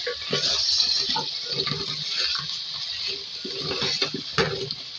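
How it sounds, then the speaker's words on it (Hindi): Half a cup of water pours and gurgles into a cooking pot of egg and potato curry, a continuous splashy rush with some bubbling, fairly close and loud throughout. "थोड़ा सा पानी ऐड करेंगे इसमें, हाफ कप"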